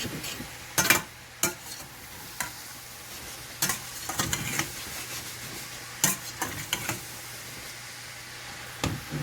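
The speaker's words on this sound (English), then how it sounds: "You want to brown those onions until they're translucent." Onions browning in a pan for a breakfast casserole, a steady low sizzle broken by several sharp scrapes and clinks of stirring, close and moderately loud, with no talking.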